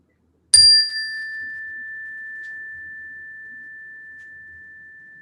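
A single meditation chime is struck once, then rings on as a clear sustained tone that slowly fades over several seconds in near silence at the close of a mindfulness practice.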